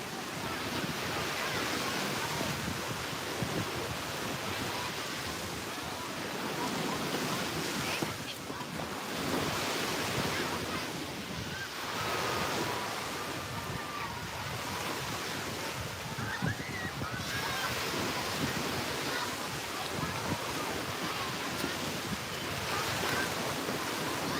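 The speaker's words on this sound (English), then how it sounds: "listening to the waves, starting now" Ocean waves wash steadily onto shore, a continuous broadband surf roar mixed with wind, fairly even in loudness throughout with no clear individual breaks standing out.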